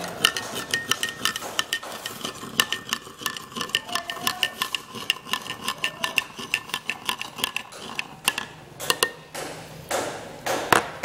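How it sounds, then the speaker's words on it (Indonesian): A solution is stirred in a glass during a school chemistry lab test of electrical conductivity, producing a quick, steady run of bright clinks and taps against the glass, close and clear with no talking. "Lalu kita aduk sampai merata."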